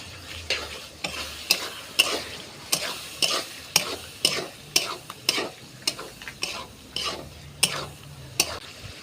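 Fried pointed gourd and prawns being stirred with yogurt in a pan, a regular rhythm of about a dozen sharp spatula scrapes over a continuous frying sizzle, close and clear with no talking.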